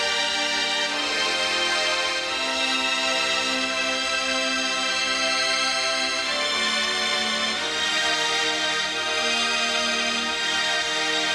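An orchestral arrangement with woodwinds and strings playing together, sustained held notes and a moving melodic line under a full, dense ensemble texture, steady and prominent throughout without any voices.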